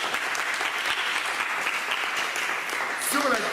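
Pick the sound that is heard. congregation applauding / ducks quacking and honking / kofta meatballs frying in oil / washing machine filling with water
congregation applauding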